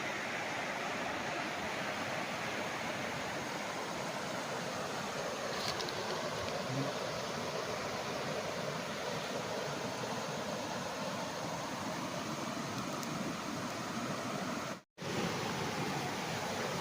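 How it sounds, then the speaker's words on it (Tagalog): River running beside a rural farm lot in Cavinti, Laguna, a steady broadband rush of flowing water, constant and fairly close, with no talk. "Ang ganda ng ilog oh."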